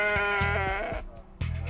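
Goats and sheep being loaded into a trailer for a petting zoo bleat loudly and close, one long wavering cry followed by shorter overlapping bleats.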